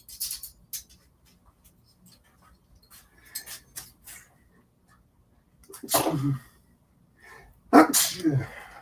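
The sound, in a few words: sneeze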